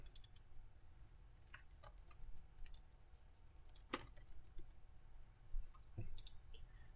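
A computer mouse clicks in a quiet room while drafting a CAD drawing, with sharp small clicks scattered through the stretch, some in quick pairs, faint and close with no talking.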